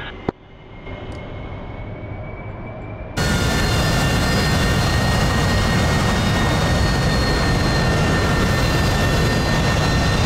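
AV-8B Harrier jet engine at full throttle in DCS World, a steady engine whine that jumps abruptly to a loud, sustained roar with high tonal whistles.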